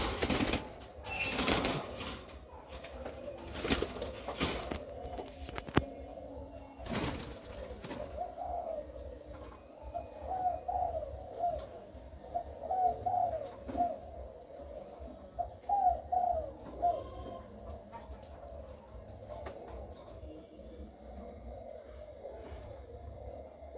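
A caged spotted dove coos in repeated soft, low phrases, steady and close, after some louder handling clatter at the start.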